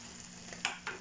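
Chicken lollipop pieces sizzle faintly in a pan as the flame goes off, a soft steady hiss with two brief louder bursts near the end.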